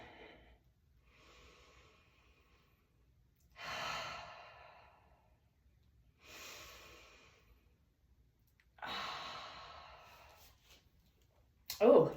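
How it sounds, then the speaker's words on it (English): Slow, deliberate breaths while holding a balanced stretching pose indoors, each long exhale rising and fading at an unhurried pace, close and soft, with no talking. "I'm gonna stop talking and just breathe for a minute"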